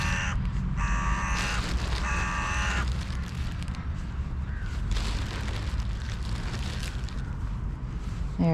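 Crows caw in loud, harsh bursts near a bird feeding station, clustered in the first few seconds, over steady outdoor background noise.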